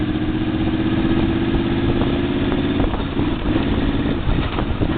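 A Yamaha Venture V-4 motorcycle runs steadily in fifth gear, its engine a close, continuous throbbing drone with an even pulse that wavers slightly midway.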